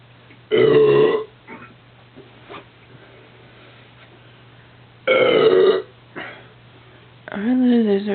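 Three long, loud, voiced burps after drinking Coors Light beer from a can, close to the mic, spaced several seconds apart with quiet pauses in between.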